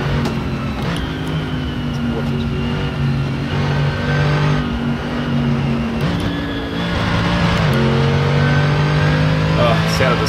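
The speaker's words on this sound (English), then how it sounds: "Oh, the sound of this car is awesome." A race car engine in a VR sim racing game revs and shifts through gears, rising and dropping in pitch, loud and close, with a voice talking over it.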